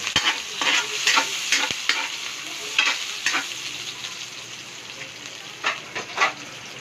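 Pork sizzles and fries in a pan, a constant crackling hiss broken by repeated scraping stirs and clatters of a utensil against the pan.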